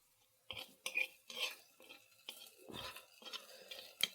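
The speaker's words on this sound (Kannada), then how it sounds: "ಒಗ್ಗರಣೆ ಹಾಕಿಕೊಳ್ಳೋಣ" Quiet, scattered metal clinks and scraping as a spoon stirs tempering into a jackfruit seed, drumstick and raw mango curry in a Mangalore home kitchen, a few sharp taps spaced across a few seconds.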